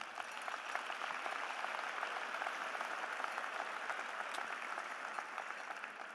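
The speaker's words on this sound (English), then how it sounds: "Let's have a round of applause for parents and families." A graduation crowd at a high school ceremony applauds parents and families, a soft, distant, even roll of many hands clapping that holds steady throughout.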